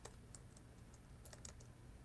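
Faint, quick computer keyboard typing, scattered light clicks at a distance over a low steady background hum.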